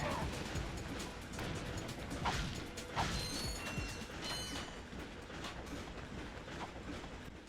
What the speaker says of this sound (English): I just love the fact that floating space trains still make like the same sound